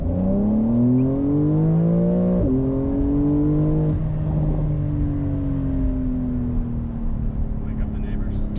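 Engine of a 2020 Porsche 911 992 Carrera 4S revving hard, its pitch sweeping up through a couple of sharp climbs and drops before settling into a steady, falling drone; loud and close, with voices talking over it.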